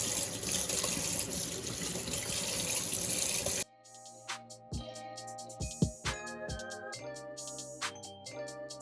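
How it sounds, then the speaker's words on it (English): Running water from a tap rinses a lace frontal wig, a steady full splash for several seconds that cuts off abruptly, followed by quieter drips, taps and handling noises. "I'm just going to rinse this right off."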